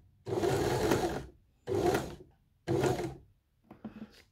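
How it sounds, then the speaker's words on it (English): A Janome My Style 20 sewing machine stitches a buttonhole in three close, loud bursts of rapid whirring separated by short pauses, followed by a brief, fainter rattle. "I need to move to part two of the buttonhole and do about 5 or 6 stitches"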